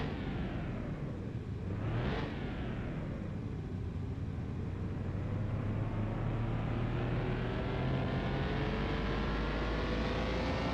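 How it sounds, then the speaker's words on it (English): A Nissan Fairlady Z S30 engine running steadily, a low, continuous droning hum with a rising and falling pitch sweep early on, moderately loud and without talk. "Nice sound of the engine."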